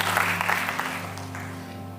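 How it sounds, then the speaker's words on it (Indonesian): A church congregation at a praise and worship service gives a short round of applause that is loud at first and then tapers off, over a steady low hum. "Kasih tepuk tangan buat Tuhan yang luar biasa"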